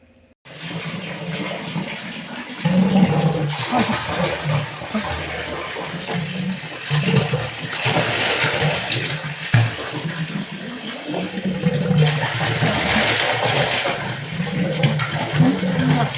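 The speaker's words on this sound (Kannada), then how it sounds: "ನೀರು ಬರ್ಲಿಕ್ಕೆ ಶುರುವಾಗುವಾಗ ಸೌಂಡ್ ಬರ್ತದಲ್ಲ" Water suddenly starts rushing and pouring after a brief silence, then keeps flowing steadily with occasional surges.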